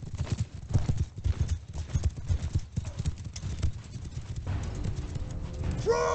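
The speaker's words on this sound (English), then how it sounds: "No, it's horses." Horse hooves clip-clop in rapid, uneven beats in the medieval battle game Bannerlord, several horses moving together, loud and close, with a brief whinny near the end.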